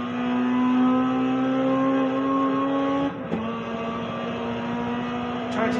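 Race car engine in the racing game GRID Legends, a steady high drone that holds, briefly dips around a gear change with a lift of the throttle, then resumes climbing.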